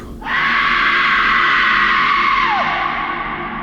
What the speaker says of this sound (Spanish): Esta, al verlos, lanzó un grito desgarrador